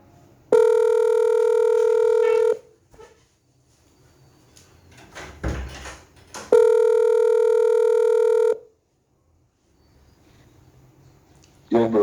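Two long, loud electronic phone tones, each about two seconds, sound while a caller is being added to a call, with brief handling noise and faint talk between them.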